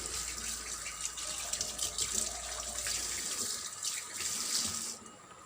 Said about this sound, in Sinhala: ඊට පස්සේ මම මේක හොඳින් හොදලා හොඳට වතුර පෙරලා